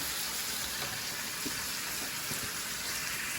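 Steady, bright sizzling of ribeye steak frying in a hot pan, an even crackling hiss with a few soft pops, close and unbroken.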